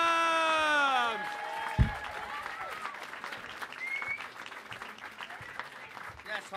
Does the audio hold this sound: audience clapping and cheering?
yes